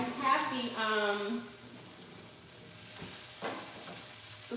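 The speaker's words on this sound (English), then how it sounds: "the sausage cooking" Chicken breakfast sausage sizzles steadily in a hot pan, a continuous crackling fry close by, with a person talking over it near the start.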